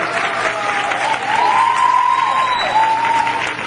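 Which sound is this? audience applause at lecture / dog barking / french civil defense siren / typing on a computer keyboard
audience applause at lecture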